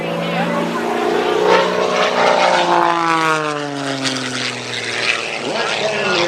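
A low-flying aerobatic propeller airplane roars past the crowd at an airshow in a low racetrack pattern. The loud engine drone shifts downward in pitch as it passes, and an announcer talks over it.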